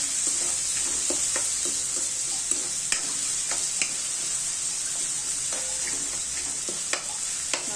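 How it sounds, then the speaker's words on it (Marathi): Chopped onions and curry leaves fry gently on a low flame for a sprouted moth bean curry, a steady soft sizzle close by, broken by intermittent clicks and scrapes of a spoon stirring the pan. "कांदा लालसर होईपर्यंत आपण भाजून घ्यायचा बारीक गॅसवर।"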